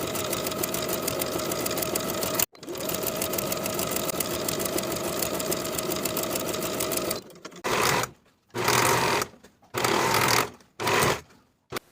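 A sewing machine stitches a sleeve into an armhole with a 3/8 inch seam allowance, running long and steady up close before breaking into several short stop-start bursts of stitching.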